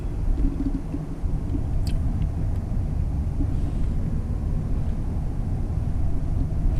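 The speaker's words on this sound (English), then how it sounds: "hold the button down, and this car will maneuver into this parking space on its own" A 2020 Lincoln Aviator luxury SUV creeps into a parking space under park assist, a steady low engine and road rumble heard from inside the cabin, with no talking.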